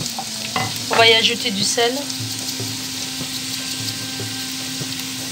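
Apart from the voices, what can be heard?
sliced onions frying and being stirred in a pan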